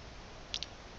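Two quick, soft keyboard key clicks in close succession while a command is typed, over a faint steady background hum.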